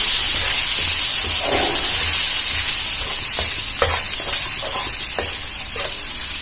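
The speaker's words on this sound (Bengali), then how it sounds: "পেঁয়াজটা ভালো করে নাড়াচাড়া করে ভেজে নেব।" Onion paste stirred and fried in a pan for a pomfret fish curry, a loud continuous sizzle with a steady hiss and repeated scraping strokes of the spatula, close up and with no talking.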